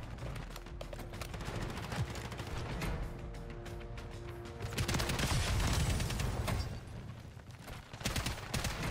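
Rapid gunfire from a hip-fire kill in Modern Warfare 3, steady bursts of shots layered under game noise, with a heavier low rumble swelling midway.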